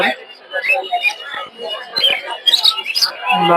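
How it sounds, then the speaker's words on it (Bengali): Assorted caged birds at the Tongi bazaar bird market, including budgerigars, lovebirds and Australian doves, chirp and tweet in a busy jumble, with bright calls rising over steady nearby human chatter. "বিভিন্ন ধরনের পাখি দেখতে পাচ্ছেন"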